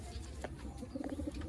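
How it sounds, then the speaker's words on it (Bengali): A pigeon coos in a series of soft, low rolling notes, close by, over a steady background murmur with no clear speech. "প্রচুর ছটপটে পায়রা"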